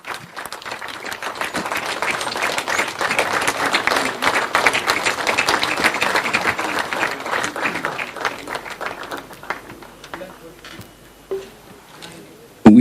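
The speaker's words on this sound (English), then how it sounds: "May we all rise and give a round of applause." An audience at an anniversary celebration claps in a long sustained round, dense at first and thinning out toward the end before a sudden loud knock.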